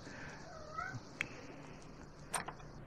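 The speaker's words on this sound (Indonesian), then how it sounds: "Jadi kucing dalam sini namanya Bima" A cat meows in The Sims 4 video game, a short, soft, rising mew followed by a couple of faint chirpy sounds against quiet background ambience.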